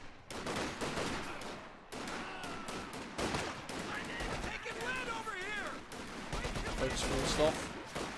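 Volleys of M1 Garand rifle fire from a Blitzkrieg strategy video game battle, repeated bursts of shots mixed with game effects and music under steady commentary.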